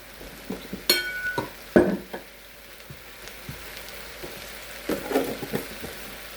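Shrimp stir-fried in a wok with cornstarch solution for Chinese red shrimp, giving soft sizzling with a few sharp clinks of a utensil against the pan, fairly faint and without talk.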